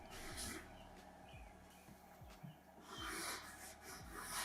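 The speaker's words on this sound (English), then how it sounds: "You can hear it scraping across the painted canvas." Acrylic refillable paint marker scraping across textured painted canvas, a soft close rasping rub that swells and fades in uneven strokes, with faint low thumps underneath.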